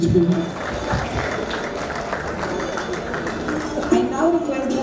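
Applause from an audience at a social event honouring a donor: steady clapping from a crowd, moderately loud and continuous throughout, with some voices mixed in.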